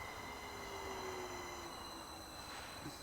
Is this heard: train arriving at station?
yes